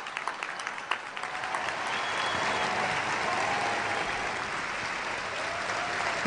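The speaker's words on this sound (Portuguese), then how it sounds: "O Papa Francisco a ser efusivamente aplaudido no final de um discurso" A large crowd of young people applauds Pope Francis at the end of his speech at a youth gathering in Lisbon. A few scattered claps swell within a second into dense, sustained clapping that stays loud and even to the end.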